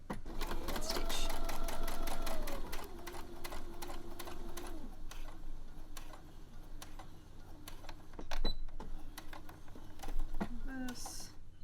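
A sewing machine stitches fabric for a pair of Jane-pattern knickers in a steady whirring run of a few seconds, then shorter bursts and a brief reverse, with light handling clicks around it.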